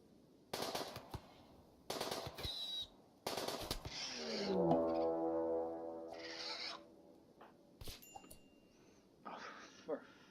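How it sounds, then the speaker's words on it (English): Bursts of machine gun fire in the video game RimWorld during a hunt of a megascarab, several short rapid volleys with gaps between, mixed with game sounds and a voice talking over them. "He's gonna be hunting a megascarp with a machine gun."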